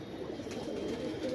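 A pair of Golden Teddy high-flyer pigeons gives a soft, low coo, a brief murmuring call close by with no one speaking over it.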